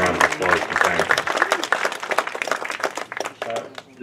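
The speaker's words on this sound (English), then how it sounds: "let's give them a round of applause and thank them" An audience claps at an outdoor high school senior awards ceremony, with a dense burst of applause that fades over a few seconds while a voice talks over it.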